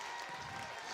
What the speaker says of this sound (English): Round of applause for Nicola and Alice.